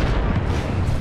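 A grenade explodes in the Apex Legends video game. It is a loud, deep, rumbling blast that fills the whole short moment and has no talk over it.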